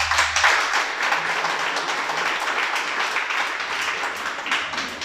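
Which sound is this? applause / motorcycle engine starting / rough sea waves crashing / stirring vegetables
applause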